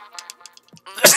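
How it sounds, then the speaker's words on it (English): A single sudden human sneeze during a Splatoon 2 match, close and abrupt at the very end, preceded by soft breathy intake sounds. "I didn't expect myself to sneeze like that"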